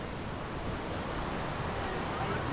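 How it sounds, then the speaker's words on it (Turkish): A waterfall at a scenic spot in Turkey gives off a steady, broadband rush of falling water, loud and constant throughout with no breaks. "Bu şelale"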